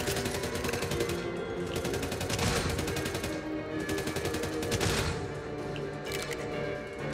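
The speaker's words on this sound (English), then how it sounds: "Who is shooting me?" Rapid gunfire in Redfall, a continuous stream of fast, sharp automatic shots at moderate volume running the whole stretch with slight swells in intensity.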